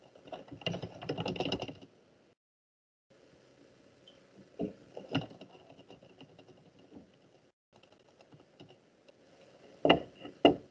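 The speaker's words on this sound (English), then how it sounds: "as I type some quotations" Bursts of typing on a computer keyboard as quotations are entered, clustered keystrokes coming in uneven runs separated by pauses, close and fairly clear, with a couple of louder clacks near the end.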